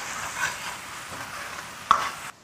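A small chunk of hot pot base stir-fries in oil with ginger, scallion, garlic and Sichuan doubanjiang, a short, even sizzle with one sharp clack of the spatula before it cuts off.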